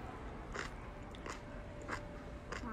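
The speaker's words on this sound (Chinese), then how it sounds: "嘎嘣脆呢还" Faint crunchy bites and chewing of very spicy Chinese food come through as four or so brief crackling crunches, spaced out over a low background hum.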